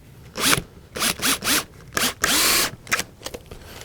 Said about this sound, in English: shove a couple of wood screws down inside there with the drill